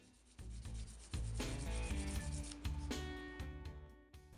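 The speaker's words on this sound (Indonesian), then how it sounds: "Gosok dengan amplas 5000 untuk menghilangkan goresan-goresan halus." Steady rubbing of 5000-grit sandpaper on a guitar's frets, repeated back-and-forth strokes, close and clear with no voices.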